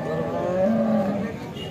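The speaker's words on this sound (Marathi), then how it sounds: "एचएफ जातीची गाय आहे" A Holstein Friesian cow at a busy cattle market lets out a single drawn-out moo, clear and fairly close over faint background noise.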